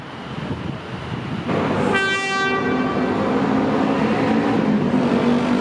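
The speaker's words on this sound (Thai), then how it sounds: "มีขบวนมาครับ" A southern-line train rumbles past Bang Son stop in Bangkok steadily, with a loud horn blast sounding partway through over the continuous roar of the wheels.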